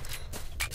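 Weapon reloading in the S.T.A.L.K.E.R.: Shadow of Chernobyl game, heard as a brief run of scraping, snipping metallic clicks close up with two bright bursts near the end, all within a fraction of a second.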